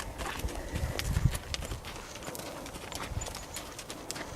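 Horse hooves clip-clop at a steady walking pace over ground, close by, with light outdoor background noise and no talking.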